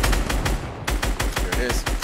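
Rapid gunfire from the Fortnite video game, fired at players' built floors: a dense, loud run of rhythmic shots in quick bursts with a brief gap partway through.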